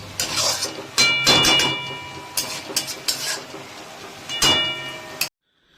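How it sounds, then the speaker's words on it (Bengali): A spice paste for a chicken and potato curry is fried and stirred in a pan: scraping spoon strokes and clattering against the metal over a low sizzle, loud and close, in irregular bursts before stopping abruptly. "এই মশলাটাই কিন্তু আমাদের আবারও কষে নিতে হবে প্রায় 10 মিনিট মতন"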